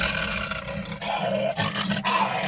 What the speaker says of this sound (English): roar like a lion